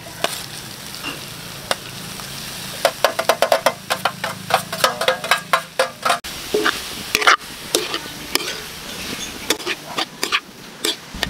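Pork lung sautéing with garlic, ginger and onion in a hot pan, a steady sizzle broken by a quick run of rapid clattering spoon-scrapes and stirring knocks, close and loud.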